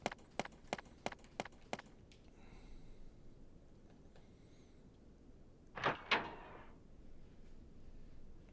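A door in the Resident Evil video game is worked open with a lockpick: a quick series of sharp metallic clicks, then a brief mechanical whir and a louder creaking thud of the door moving, over quiet ambience.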